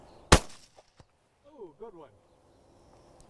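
A single sharp, loud rifle shot cracks out during an oryx hunt, then fades into near quiet with a few faint bird-like chirps.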